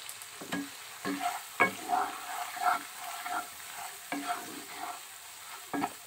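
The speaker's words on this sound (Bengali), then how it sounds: "মশলাটাকে সুন্দর করে কষিয়ে নেব।" A spice paste of ginger, chili and a little turmeric fries in a pan with a soft sizzle, punctuated by frequent scraping and stirring strokes in an uneven rhythm, close and with no talking.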